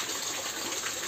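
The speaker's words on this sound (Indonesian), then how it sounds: "Jadi ini aku buang airnya sampai" Water drains steadily out of a goldfish grooming pond, a continuous, close, rushing gush that holds even throughout without any talking.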